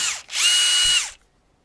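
A 12-volt cordless drill boring with a half-inch bit, a loud high whine that spins up, holds for under a second and winds down, close by with no talk.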